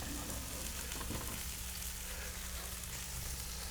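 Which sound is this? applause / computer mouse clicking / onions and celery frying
onions and celery frying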